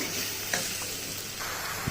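Ginger garlic paste frying in a pan for a spicy tomato curry, a steady broadband sizzle with a few stirring scrapes, close and continuous, no voices.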